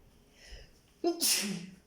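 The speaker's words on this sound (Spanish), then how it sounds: "me dio el estornudo" A single person sneezes indoors during a classroom-style lesson. A brief inhale comes first, then one sharp, loud, close sneeze.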